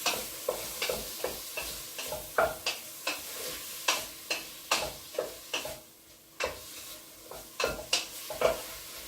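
A spoon scrapes the bottom of a pot of Mexican-style beef stew while about a tablespoon of oil sizzles. There are repeated rhythmic scraping strokes, close and fairly loud, over a steady frying hiss.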